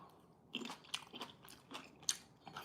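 Crunchy cherry tomatoes, served with feta and Kalamata olives, are bitten and chewed close to the mic, giving several sharp crisp crunches spaced through a quiet background with no talking.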